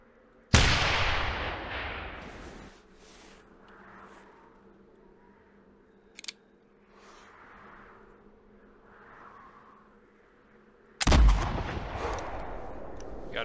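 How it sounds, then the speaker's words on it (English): Gunshots from a muzzle loader and a rifle in the hunting video game theHunter Classic: two loud, booming shots about ten seconds apart, each with a long decaying echo, and faint outdoor ambience between them. "I'm gonna shoot the first one with the muzzle loader here"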